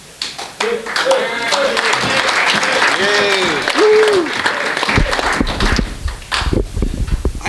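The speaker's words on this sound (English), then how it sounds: "I don't know why you guys clap for me as program chair" An audience at a school-hosted club meeting claps loudly and steadily for the program chair as he comes up. Voices and cheering mix in early on, and the applause thins into scattered claps toward the end.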